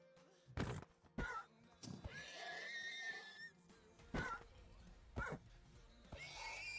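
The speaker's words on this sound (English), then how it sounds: "You say that as I murder a horse." Horse being killed in a blocky survival video game, with several short loud hits and squealing horse-like neighs over a busy game soundscape, some separated by brief pauses.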